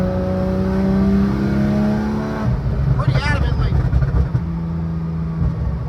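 A 2014 Porsche Cayman engine holds a steady rev, then drops off into a burst of exhaust crackles and pops, loud and close, with someone talking over it.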